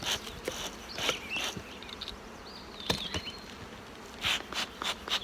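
Honey bees buzzing around brood comb lifted from a nuc hive, a steady close hum with individual bees zipping past the ear in brief louder swells.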